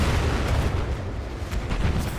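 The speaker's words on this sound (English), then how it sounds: "So much explosions." Explosions and heavy gunfire from the Battlefield 6 video game rumble continuously in a dense, loud wash of booms and bursts with no speech.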